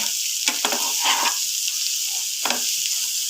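Egg chutney being stirred and sautéed in a pan, a constant frying hiss with a few distinct spatula scrapes and knocks against the pan, no talking.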